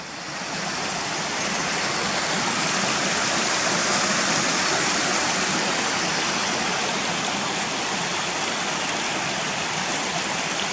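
A stream in the Yorkshire Dales, swollen after rain, rushes and churns close by in a loud, unbroken wash of water with no pauses and no voices.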